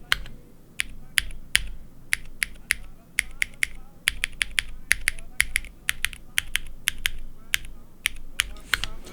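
Crisp, clean keystrokes on a mechanical keyboard fitted with WS Jade switches, with no spring crunch and no upstroke noise, tapping in an uneven rhythm of sharp clicks up close and alone.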